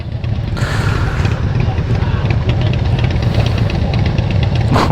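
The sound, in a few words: Harley-Davidson motorcycle engine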